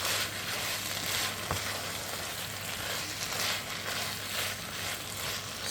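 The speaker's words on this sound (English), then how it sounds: "This is why, folks, it's called a stir fry." Chicken chow mein stir-frying in a hot pan, a steady soft sizzle with faint stirring scrapes, low and continuous without talk.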